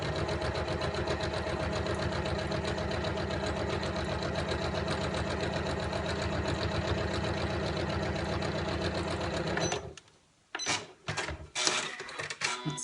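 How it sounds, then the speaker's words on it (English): A Janome MC9900 sewing machine runs a steady straight stitch along a fabric edge for a drawstring bag, a fast continuous mechanical whir and needle chatter that stops abruptly near the end, followed by a few handling clicks. "I'm just going to sew as close as I can now to this edge, just to hold this down with a regular straight stitch"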